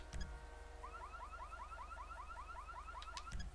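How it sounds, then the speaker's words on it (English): Vehicle security alarm in GTA V roleplay, video game: a rapid, repeating rising electronic chirp pattern that loops steadily over a low engine-like hum, quiet overall, with soft clicks at the start and end. "You can also toggle your security alarm."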